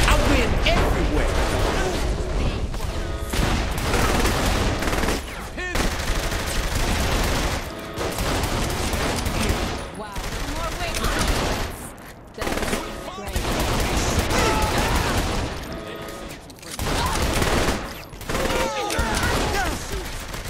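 Sustained gunfire in Saints Row: The Third Remastered, loud bursts of automatic fire and shots repeating almost continuously with brief gaps, heavy booming low end throughout.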